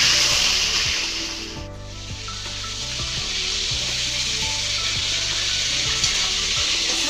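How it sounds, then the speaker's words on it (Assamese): Chicken pieces fry in refined oil with a constant, close sizzle, while soft rhythmic knocks and scrapes from stirring run beneath the hiss. "ৰিফাইন অইলত ফ্ৰাই কৰি লম চিকেন খিনি"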